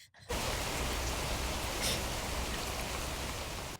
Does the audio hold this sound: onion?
no